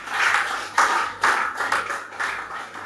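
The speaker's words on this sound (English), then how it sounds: "let's give him another round of applause" An audience at a tree planting event claps in short, uneven bursts of applause, several separate waves rising and fading, fairly close and clear.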